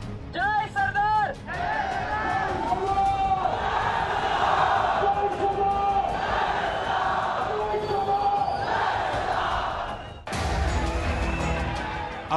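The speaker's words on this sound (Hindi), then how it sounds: "भीड़ में गूंजते इस नारे को सुनिए।" A large Patidar community crowd at a street rally for reservation chants the slogan 'Jai Sardar' in loud rhythmic bursts, a strong lead voice opening before a massed roar of voices swells and holds, then cuts off.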